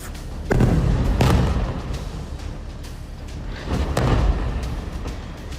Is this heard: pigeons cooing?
no